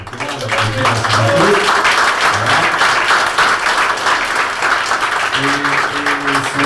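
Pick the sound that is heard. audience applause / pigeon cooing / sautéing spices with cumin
audience applause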